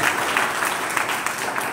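An audience at a Warkari religious gathering claps together to welcome a respected guest, a thick and steady patter of many hands heard close and fairly loud for a short stretch.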